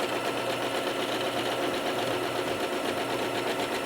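A home sewing machine runs continuously at a steady moderate speed while stitching quilted fabric for a bottle tote, producing a close, even mechanical whir with no pauses.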